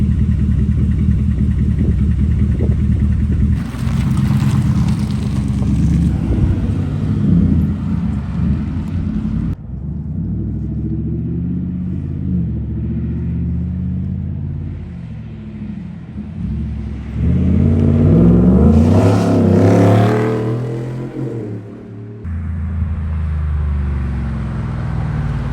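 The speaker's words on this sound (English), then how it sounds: "It's a nice little shot of the exhaust." A 2015-2020 Ford F-150 pickup with a Flashark cat-back exhaust revs and accelerates through gears, its loud, deep exhaust note rising and dropping with shifts, surging hardest near the end, with no talk over it.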